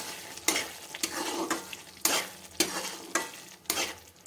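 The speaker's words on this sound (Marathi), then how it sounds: "असंच हलवत राहायचं" Fresh peas being stirred into masala in a hot pan for a mutter paneer curry, a spoon scraping in regular strokes about every half second over a steady sizzle of frying, close and clear with no talking.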